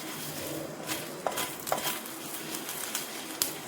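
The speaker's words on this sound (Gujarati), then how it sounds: "હવે નાસ્તાને આપણે સરસ એવો હલાવી દઈશું" A spoon stirs a poha snack with fresh coriander in a pan just after the gas flame is turned off. Soft scraping and rustling are broken by a few crisp metallic clinks against the pan.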